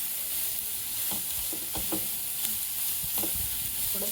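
Onion and carrot pieces frying together in a pan, a steady close sizzle with occasional scraping stirs of a spatula, no voices.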